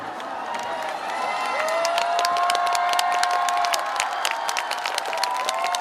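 Audience applause and cheering at the Daejeon 0 o'clock music festival celebration concert, a dense, sustained wash of clapping with scattered whoops and high shouts, loud and continuous across the whole stretch.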